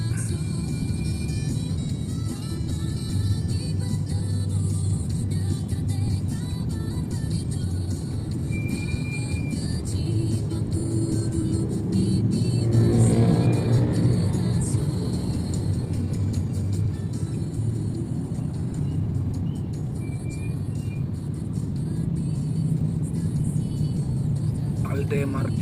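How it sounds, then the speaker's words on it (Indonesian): Slow, dense traffic crawls near a hospital MRT stop, producing a steady low rumble and whir of engines with occasional louder passing vehicles, while people talk nearby. "kendaraan padat merayap."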